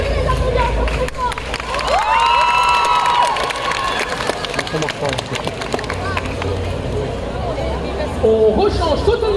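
A loud crowd at a cosplay parade claps and cheers continuously, with music and scattered shouts mixed into the roar of applause.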